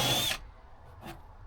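A short, close burst from a power drill driving a self-tapping screw into a floor batten cuts off quickly, leaving faint room noise and a soft scrape.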